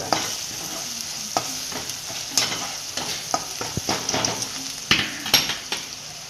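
Onion sizzles and fries in a pan for a dhaba-style whole masoor dal, with a spoon scraping and clinking against the metal in irregular strokes over a steady low hiss, close and moderately quiet with no talking.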